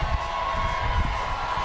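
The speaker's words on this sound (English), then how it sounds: "Listen to that crowd roar." A dense, continuous roar from a crowd at a Tampa pride parade, with cheering and whoops blending into a constant wash of noise.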